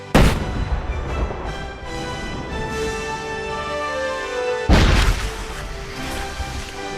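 Explosive cannon fire sound effect: two heavy booms, one at the start and another near the end, each followed by a long ringing, rumbling decay.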